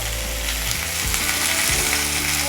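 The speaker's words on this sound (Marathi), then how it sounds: "टमॅटो जो आहे तो छान असा आपल्याला फ्राय करून घ्यायचा" Green tomatoes frying in oil in a pan, a loud, dense, continuous sizzle with a low bubbling rumble and a few brief stirring knocks, no speech.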